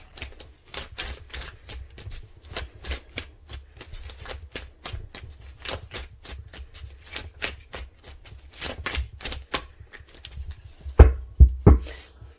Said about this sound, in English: I'm shuffling the cards one more time